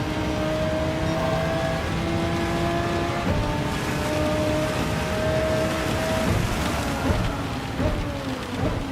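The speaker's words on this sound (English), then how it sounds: "Okay, now the rain again." Rain in the racing video game Gran Turismo 7 on the Dragon Trail circuit, a steady loud hiss of rainfall over the whine of a race car engine that rises and shifts in pitch.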